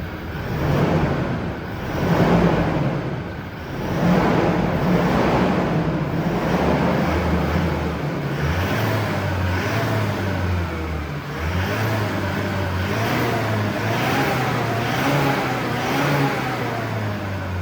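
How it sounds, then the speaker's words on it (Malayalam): A Toyota Land Cruiser 76 runs close by, its exhaust note rising and falling as the engine revs repeatedly, with a deep steady rumble underneath and no speech. "ഇനി നമുക്ക് ഈ വണ്ടിയുടെ എക്സോസ്റ്റ് നോട്ട് ഒന്ന് കേട്ട് നോക്കാം."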